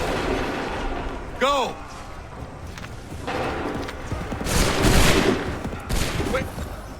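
In the Assassin's Creed III video game, musket volleys crack and rumble in a battle scene, with several rolling bursts of gunfire and booms amid shouting voices and a brief rising tone.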